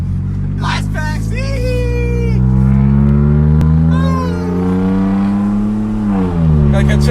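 A 2020 Toyota Supra accelerates hard from a launch, its engine climbing loud and close through the gears with a rising, droning tone and a sharp crack partway through, while people talk excitedly over it.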